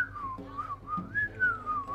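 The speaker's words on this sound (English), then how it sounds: "The goblin approaches, whistling a happy tune." A goblin in the video game Lil Guardsman whistles a cheerful, happy tune: a clear, wavering melody that rises and falls steadily for two seconds, close and alone with no talk.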